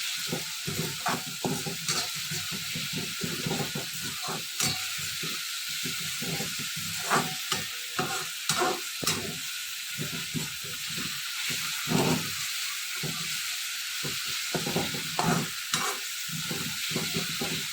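Ginger, garlic, mint and coriander paste frying and being stirred in a pan for chicken dalcha, a steady loud sizzle with frequent scraping stir strokes throughout, no talking.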